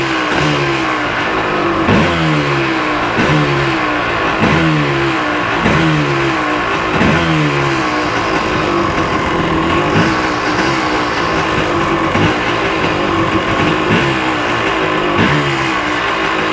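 Yamaha Tri-Z 250 two-stroke engine running just after a kick start, close and loud, with a raspy buzzing note rising and falling through repeated revs over a steady idle, and no talk.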